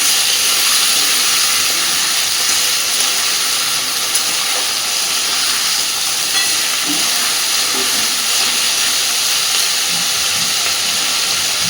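Vegetables frying in a pan for fried rice, a loud, steady, close sizzling hiss that holds evenly throughout with faint clinks now and then.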